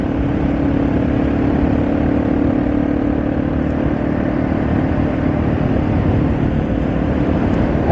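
A Yamaha TW200 motorcycle engine runs steadily while riding around town, a constant loud drone with a low hum and wind rush throughout, no pauses or talk.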